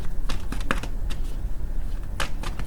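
Tarot cards are shuffled by hand during a love reading, a close run of quick papery riffles and flicks over a steady background hiss, with no voice over them.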